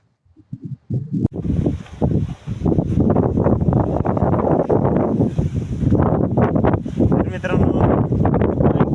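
Wind buffeting a microphone outdoors on a farm, loud gusty rumbling and roaring that builds after a brief quiet start and then keeps blowing strongly.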